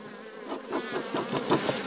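Honey bees buzz close up at a hive frame in a package apiary while colonies are being readied for winter. The busy, wavering drone of many bees is heard alone for about two seconds.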